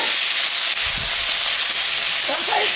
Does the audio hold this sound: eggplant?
yes